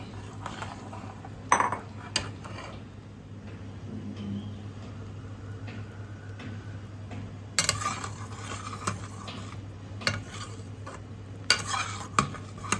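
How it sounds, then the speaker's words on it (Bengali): Besan fritters are dropped into a thickening curry gravy and stirred with a spoon, with scraping and clinking against the pot at intervals over a low steady background hum. "এবার বেসনের বড়াগুলো দিয়ে দিচ্ছি।"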